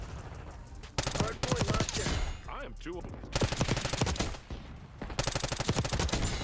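Rapid bursts of automatic gunfire from a C9 submachine gun in Black Ops 6 fill the clip, loud and dense, with a short lull in the middle before firing resumes.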